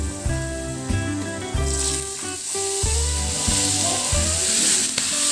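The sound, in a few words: chopped onion and green chili sizzling in a frying pan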